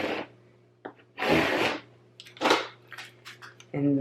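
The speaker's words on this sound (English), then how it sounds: "And then flip it over and burnish" A burnishing tool rubs over a Cricut craft project in several short scraping strokes, close and fairly loud, with brief pauses between them.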